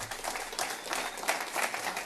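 Applause from an audience at a Board of Education public meeting, a steady wash of clapping that fills the whole moment at moderate loudness, with no voices standing out.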